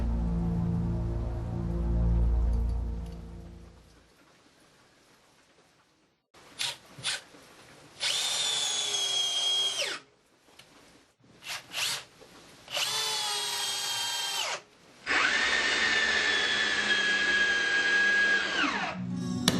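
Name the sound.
Bosch 12V brushless Flexiclick drill driving big screws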